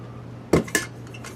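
Metal GSI kettle set down on an Emberlite cook stove, two sharp metallic clanks in quick succession, close and loud against a quiet low hum.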